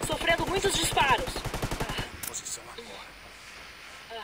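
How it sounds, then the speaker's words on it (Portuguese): Rapid bursts of automatic gunfire in Ghost Recon Wildlands PvP rattle for two seconds, then stop, leaving a quiet hiss with faint movement and a distant shot. "Sofrendo muitos disparos."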